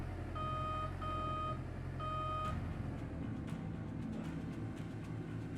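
Reversing alarm of a large dump truck at a mining site in Gold Rush: The Game, steady repeated beeps over a deep diesel engine rumble, loud and close, stopping after a few seconds as the engine noise carries on.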